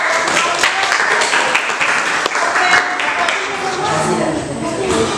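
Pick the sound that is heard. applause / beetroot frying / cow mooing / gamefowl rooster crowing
applause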